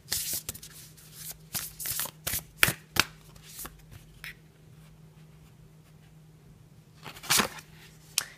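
Tarot cards are shuffled by hand in several quick riffling bursts, crisp and close, separated by short pauses of near silence.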